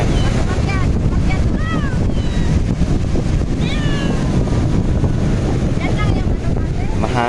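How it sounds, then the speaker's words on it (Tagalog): Strong wind buffets the microphone on a beach, a constant roaring rush with gusts, while dogs or cats make faint squeaky cries in the background. "Mahangin guys."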